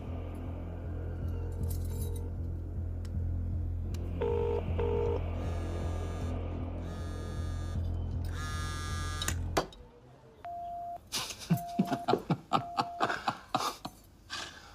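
A low steady hum runs beneath short electronic tones and beeps, then a run of quick dial tones and clicks follows, close and moderately loud.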